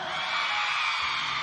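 A large crowd at a festive pre-election evening rally screams and whoops loudly and continuously, a dense, sustained roar with no individual voice standing out.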